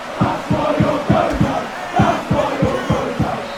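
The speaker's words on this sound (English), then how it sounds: "As the crowd is enthusiastic once again, we're getting a lot of shouts." In a fantasy battle video game, a crowd bellows rhythmic, repeated shouts in regular pulses, loud and sustained like a war chant.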